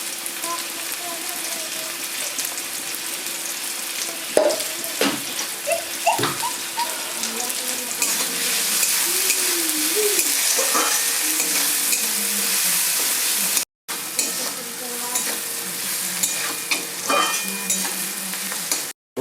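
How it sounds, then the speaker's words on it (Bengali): Chopped onions fry in mustard oil in a pan while being stirred, with steady sizzling, scraping utensil sounds and water-like clatter throughout, and brief gaps in the noise. "দিচ্ছি পেঁয়াজ কুচি কিন্তু পেঁয়াজের পরিমাণটা বেশি দেবো"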